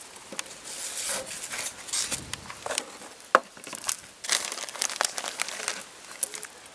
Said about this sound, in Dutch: Daar gaan we het bakje mee vullen.